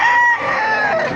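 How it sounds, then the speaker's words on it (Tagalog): Roosters crow at a chicken market in Bocaue, Bulacan, one loud, close, sustained crow over a busy market background. "Ganda ng mga manok, ha?"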